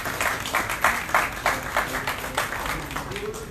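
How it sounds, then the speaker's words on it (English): At the 2019 NCCU Cadence Lypso show, the audience gives a round of applause, a steady, medium-loud patter of many hands with some rhythmic clapping, crowd murmur and voices running beneath. "Let's give them a round of applause, please."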